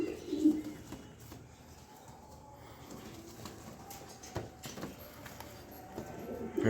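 Grizzle pigeons, a big-sized pair, coo softly and intermittently against quiet room noise, with a faint flutter now and then.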